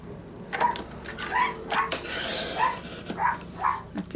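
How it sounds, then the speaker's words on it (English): Dogs bark at home in a short irregular series, several sharp yips and barks at moderate distance over a quiet room background. "That's why the dogs are barking."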